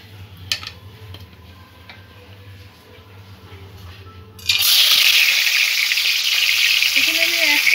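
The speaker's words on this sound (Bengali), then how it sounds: "কড়াতে আমি সর্ষের তেল দিয়ে দিয়েছি পরিমাণ মতন। মাছগুলো এবার এক এক করে ভেজে নেব।" Fish frying in mustard oil in a kadai: a loud, steady sizzle bursts in partway through after a quiet stretch with a low hum, then crackles on continuously at close range.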